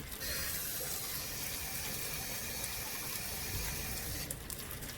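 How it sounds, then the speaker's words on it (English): Running water pours steadily from a tap into a pan, a constant rushing splash from start to finish. "Let's get the water in it."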